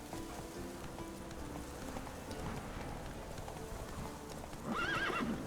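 Roach, the horse in The Witcher 3, trotting with rhythmic clip-clop hoofbeats on a soft rainy ambience, ending in a louder whinny near the close, with no talking.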